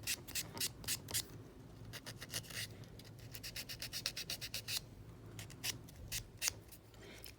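A handheld nail buffer rubs over dipped-powder nails in quick, rhythmic back-and-forth strokes, close and soft, with short pauses between bursts.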